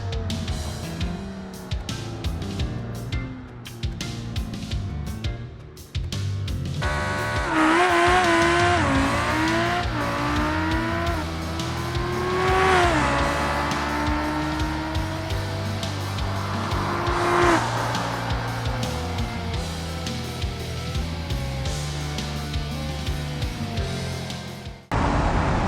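Civetta Scintilla GTS Corsa on a drag run, engine revving loudly with rising gear-change sweeps, tire squeal and sustained acceleration roar close by.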